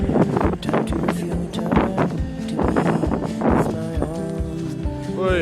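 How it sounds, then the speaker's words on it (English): Cold wind gusts outdoors in near-zero temperatures, buffeting the microphone with loud rumbling blasts, while a person speaks in short bursts over it. "It kind of takes your breath away when the wind blows right at you and you're trying to breathe."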